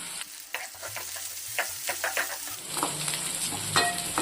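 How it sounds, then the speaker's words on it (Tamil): Shallots and garlic sautéing in oil in a pan while cooking a bitter gourd dish: a close, steady sizzle with frequent quick stirring scrapes and taps, and a low rattling hum in the first half. "வெங்காயம் ஓரளவுக்கு வதங்கிட்டு இருக்கும்போது ஒரு மூணு பூண்டு பல் எடுத்து ஒன்று ரெண்டுமாக நச்சு சேர்த்துக்கலாம்"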